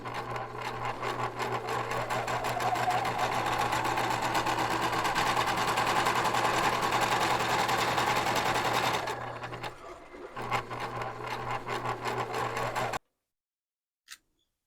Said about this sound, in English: get back to sewing this together